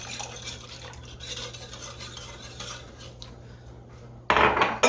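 A spoon stirs a pot of water and fresh-squeezed lemon juice with soft scraping and clinks against the metal, close up, ending in a louder burst of clatter and noise.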